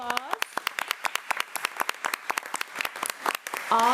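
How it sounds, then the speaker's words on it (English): Scattered, distinct claps from a small audience at a school board meeting honoring students, a sparse irregular patter close by, with a voice speaking briefly at the start and end. "let's give our students another round of applause."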